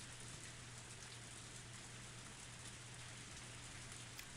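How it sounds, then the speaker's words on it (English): Pouring rain in the Higurashi When They Cry video game, a steady, even hiss of heavy downpour with a low constant hum beneath, unbroken and fairly quiet throughout. "Only the sound of pouring rain filled up the silence."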